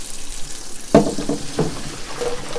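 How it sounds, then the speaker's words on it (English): Cold tap water running into a pot in a kitchen sink while braised pig ears are drained and rinsed, a sudden splashing onset followed by uneven gushing and clattering spatter at close range. "Got my cold-ish water running"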